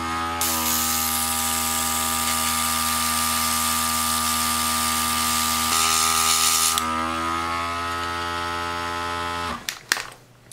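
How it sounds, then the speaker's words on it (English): An airbrush sprays black paint onto a small model blaster, producing a steady, close hiss over a constant compressor hum that runs unbroken and then cuts off abruptly at the end, with a few handling clicks. "I go and airbrush this"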